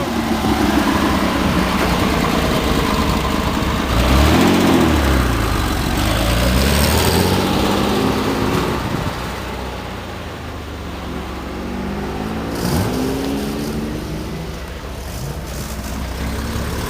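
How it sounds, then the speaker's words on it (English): A 1960 Chevrolet Corvair Monza, a Bill Thomas-inspired 140 four-carb four-speed, fires up and runs, its air-cooled flat engine idling steadily and loudly close by, with a brief rev partway through before settling back to a rough, even idle. "Let's crank that baby up."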